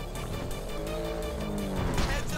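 Motorcycle engine in GTA V, a steady droning engine note rising slightly in pitch over a couple of seconds, up close and continuous.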